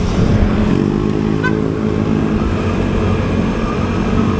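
A BMW motorcycle engine drones steadily and loudly close by, a rough continuous rumble with no voices.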